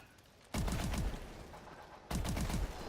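Gunfire in the Call of Duty Advanced Warfare zombies video game: two loud, close bursts of rapid automatic shots, each a quick rattling string, with a short lull between them.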